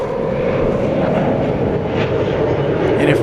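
A Turkish Airlines Boeing 777 from Istanbul taxis at night at DFW Airport, its engines giving a steady, loud, continuous low roar with no breaks or changes.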